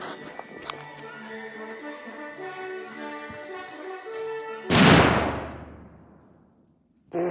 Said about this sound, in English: The explosion was super loud